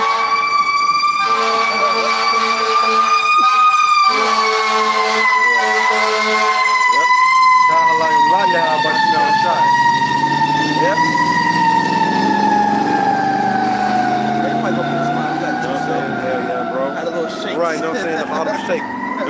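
A fire truck siren wails loudly with gliding, wavering tones, its pitch sliding downward as the truck passes close by, accompanied by a background vehicle rumble.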